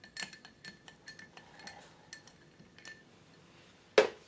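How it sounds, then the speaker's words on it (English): Ice clinks rhythmically against glass as a Negroni cocktail is stirred, a string of quiet, close, evenly spaced ticks ending with a louder knock. "Stir to chill and dilute the drink."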